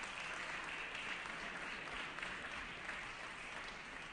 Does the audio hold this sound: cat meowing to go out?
no